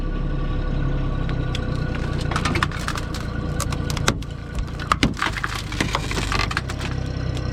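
A Hurst hydraulic cutter bites through car pillars, sharp cracking snaps and crunching metal over a steady engine drone, loud and close, growing busier toward the end.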